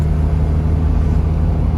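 A 1974 Audi 100 Coupé S pulls along in third gear with a steady low engine rumble and drone, close and continuous throughout, with no talk over it.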